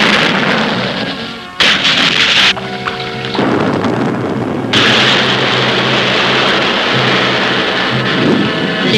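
Depth charges explode underwater in a 1966 cartoon, loud booming blasts and heavy rumbling crashes that follow one another over a sustained, churning roar.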